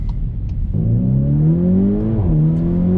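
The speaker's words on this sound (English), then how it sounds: "And the gear shifts, wow. And the crackles from the rear." Volkswagen T-Roc R hot crossover engine revving hard and pulling through the gears, a loud, close, rising drone with a brief dip as a shift lands midway, faint ticks early on, and no speech.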